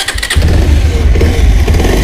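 A Bajaj Pulsar BS6 motorcycle with a battery-related starting problem fires up after a brief crank and settles into a loud, close, steady idle.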